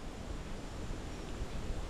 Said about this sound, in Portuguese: Está ventando bastante, espero que o áudio esteja pegando legal a minha voz aí.